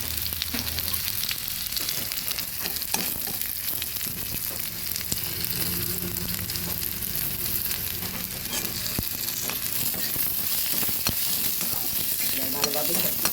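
Black cumin seeds go into a pan of frying onion and garlic and give off a steady, soft hiss of sizzling. Faint stirring ticks sit under it, close and quiet, with no speech.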